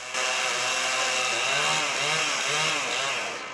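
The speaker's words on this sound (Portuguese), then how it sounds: "O som angustiante de uma motosserra está tirando o sono de vizinhos deste terreno no bairro Bingen." A chainsaw cutting trees on a lot in a residential neighborhood, a loud, steady, continuous engine whine with slight pitch wavering, close and alone with no talk.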